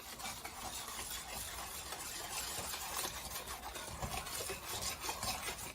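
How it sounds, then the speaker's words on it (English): Eggs, oil and sugar are whisked together in a kitchen bowl for a Greek tangerine pie, giving a fast, steady swishing and light clatter that runs continuously up close. "Continue whisking. Whisk, whisk, whisk, eggs, oil, and sugar."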